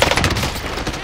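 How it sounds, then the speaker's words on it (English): Dense, continuous burst of automatic gunfire in Call of Duty Warzone on Rebirth Island, loud rapid shots rolling together for about a second with no talk. "we got some guy over here shooting a bead shooter"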